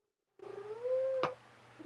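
A cat lets out a single drawn-out meow after a moment of silence, with a rising, bending pitch and a sharp click partway through, then a short quiet trill at the end.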